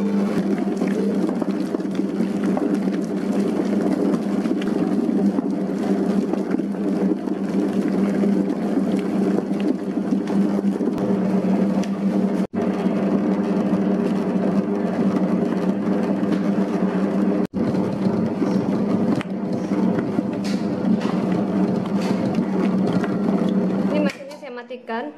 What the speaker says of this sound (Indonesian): Nyalakan mesinnya, lanjut mengadon sampai betul-betul kalis.